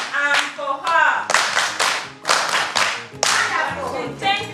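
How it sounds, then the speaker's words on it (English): Clapping from an audience at a fifteenth-anniversary celebration, bursts of hands that rise and fall in waves over several seconds, fairly close and lively, with voices mixed in among the claps. "Can we give a nice clap to Apio? A nice clap."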